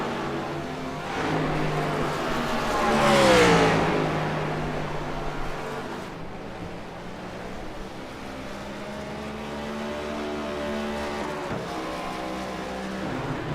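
Race car engines lapping Richmond in a NAOR Cup Series sim racing game, a steady engine drone with one car swelling loud as it passes, its pitch sliding down, then settling back into a distant hum.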